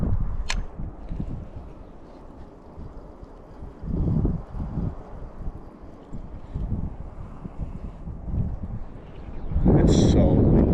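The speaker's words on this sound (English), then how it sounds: "It's so windy." Strong wind buffets the microphone while fishing, a steady low rumble with gusts swelling around four and six seconds and a loud blast near the end, mostly alone with a brief click early on.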